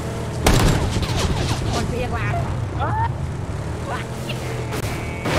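A burst of gunshots rings out: one sharp loud crack followed by scattered popping and a crowd of voices talking and shouting over it at close range.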